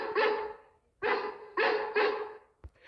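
A person imitates a dog, giving four loud, close bark-like yelps in quick succession, followed by a short sharp click or thump.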